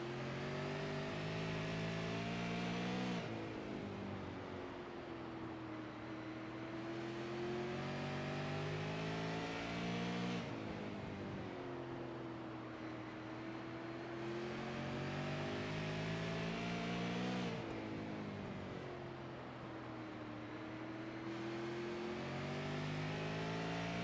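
Onboard at a super late model race, a race car engine roars continuously through a lap, climbing in pitch as it accelerates down each straight and dropping as it lifts into the turns, in a repeating cycle with no talking.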